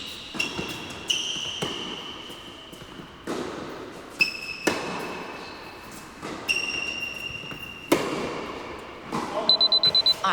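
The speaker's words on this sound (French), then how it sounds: "les bips que vous entendez, c'est un petit test que j'ai fait quelques jours avant ce match-là" A rapid series of short, high electronic beeps sounds near the end, after several dull thumping impacts and sustained tones.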